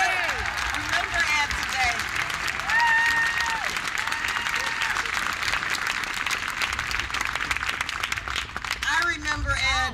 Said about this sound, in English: Let's give Ed a round of applause, too.